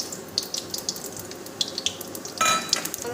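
Nigella, cumin and carom seeds crackle in hot oil for tempering, with a soft steady sizzle broken by small pops and a louder burst of spitting near the end.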